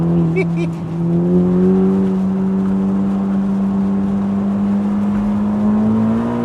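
A Ferrari Roma Spider in race mode accelerates up a highway on-ramp, its engine drone climbing steadily in pitch, loud and close from inside the open car, with a brief voice near the start.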